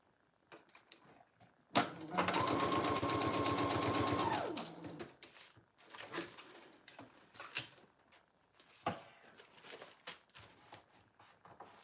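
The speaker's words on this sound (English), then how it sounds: "Going to sew on this little tab." A sewing machine stitches a small tab onto a handmade journal in one quick, close, rhythmic burst of about two seconds, followed by quieter handling clicks and rustles.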